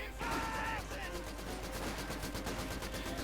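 Wehrmacht grenadiers firing in Company of Heroes 2, a dense stretch of rapid small-arms fire crackling in steady bursts beneath a commentator's voice talking over the battle.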